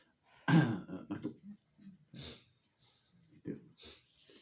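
Coughs and throat-clearing bursts from a person doing a laughter yoga exercise, several separate close, short rasping bursts with pauses between them, sounding alone without talk.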